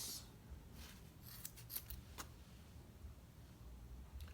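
Scissors cut through crochet yarn with a few quiet, crisp snips close by. Soft handling rustle fills the gaps, and no one speaks.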